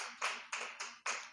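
A church audience giving a clap offering, four bright hand claps in quick rhythm, fairly close and on their own.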